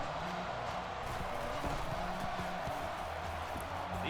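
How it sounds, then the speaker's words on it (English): Stadium crowd from a college football video game featuring the Miami Hurricanes, a steady, loud broadband roar of cheering spectators that fills the whole span without pause. "And you hear the crowd."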